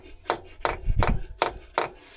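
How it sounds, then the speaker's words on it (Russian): A hex key is hammered into a freshly drilled 6 mm hole in a bolt on a racing MAZ truck. Five sharp metallic hammer strikes land at a steady pace, close and fairly loud, with no voices. "Просверлил отверстие на 6 и забил шестигранник"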